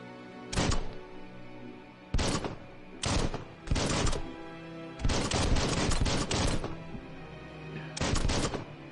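Gunfire in Biomutant: separate loud bursts of shots, each lasting about half a second to a second, repeated at irregular intervals with short gaps between them.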